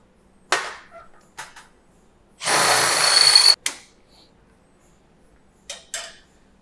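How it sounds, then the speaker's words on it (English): Power drill boring out holes: one sustained burst of drilling lasting about a second, bracketed by several sharp clicks and knocks of handling before and after, with no talking. "So first thing to do is going to drill out these holes."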